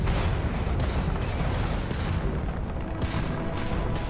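Rockets in the space sci-fi video game Starfield pound against an enemy shield, a dense barrage of booming blasts and rumbling impacts that stays loud and continuous throughout.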